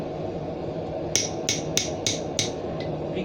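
A blacksmith strikes a hot chisel with a hammer while making leaf-end hooks: five sharp, evenly spaced metallic blows, then a faint sixth, ringing over a steady forge-shop hum.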